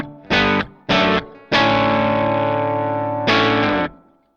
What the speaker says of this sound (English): You can hear there's a little bit of breakup on the amp,